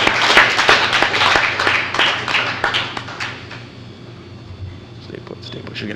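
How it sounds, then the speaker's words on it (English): An audience at a high school honors ceremony gives a round of applause, crisp close claps for about three seconds that quickly thin out and fade into quiet room murmur. "Let's give a collective round of applause to celebrate our current sophomores with their high honors."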